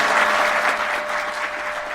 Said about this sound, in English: Big round of applause, please, for Saurabh and Manwar.